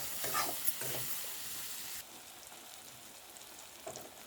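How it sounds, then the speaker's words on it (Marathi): Tomatoes cooking down in hot oil, giving a faint, even sizzle with light crackles that drops quieter halfway through and then picks up a few small pops near the end. "आता टोमॅटो एकदम तेल सुटेपर्यंत शिजवून घ्यायचे आहेत."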